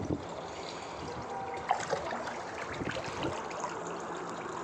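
A thin stream of water trickles and splashes steadily, quiet and close, with a few small knocks and clinks.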